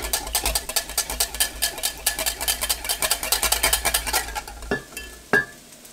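Batter being mixed in a bowl, a steady run of quick scraping clinks from a utensil against the bowl for several seconds, then two sharper taps near the end, close and alone.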